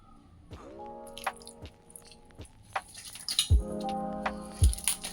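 Water is added to ragi flour dough and worked by hand, giving wet squishing and slapping sounds with small drips, irregular and close, with quiet background tones.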